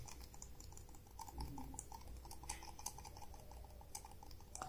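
Quiet, rapid clicking of a budget Bluetooth computer mouse's small plastic buttons, irregular taps repeating close to the ear against a faint background hum.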